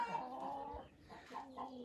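Faverolles chickens, a hen and a rooster, cluck in their coop house, a few soft throaty clucks and murmurs close by at low volume.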